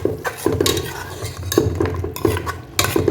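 Mutton biryani being stirred with oil and ghee in a large pot: repeated rhythmic scraping and clanking strokes of a utensil against metal, close and fairly loud, with no talking.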